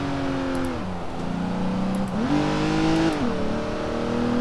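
A Rolls-Royce engine in the racing game Forza Horizon 3 revs steadily with rising and falling pitch as gears shift, heard from outside the car as a continuous smooth drone with no voices.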